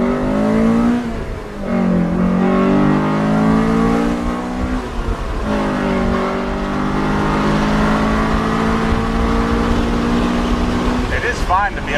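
Honda Civic Si EM1 with a VTEC engine revving hard while driving, loud rising harmonic sweeps through the gears with brief drops between shifts, close and continuous throughout.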